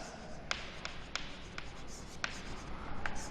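Chalk or marker strokes on a board during a physics lecture at a college, sharp scratchy taps scattered irregularly across a few seconds over a steady room hum, fairly close and moderately quiet.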